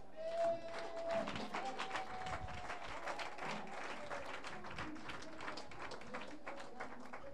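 A church congregation applauds to acclaim God: scattered, uneven clapping from a crowd, moderately distant, with a sustained tone and some voices mixed in.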